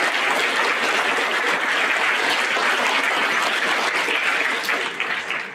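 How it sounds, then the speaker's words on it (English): Sustained applause from a large audience at a high school Veterans Day program, steady and loud throughout, tapering slightly at the end. "Please give one more round of applause"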